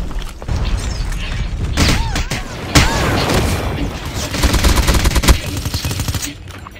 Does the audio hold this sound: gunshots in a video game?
yes